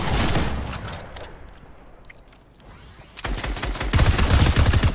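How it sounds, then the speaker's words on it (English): Rapid automatic sniper rifle fire in a first-person shooter video game, loud bursts at the start and again near the end with a quieter lull between, no voices. "there's an automatic sniper rifle here"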